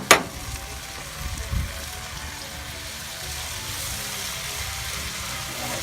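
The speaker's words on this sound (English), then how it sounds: "We're just going to throw those onions in." Fried onions tossed into a pot of green beans for Hoosier stew, with a steady soft sizzle and hiss throughout after a brief clatter at the start, no voices.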